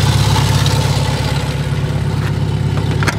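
Engine of a 1972 Fiat 850 Sport Spider idling and revving in the Forza racing game, a steady mid-low buzz with small throttle swells and a couple of brief sharp clicks near the end.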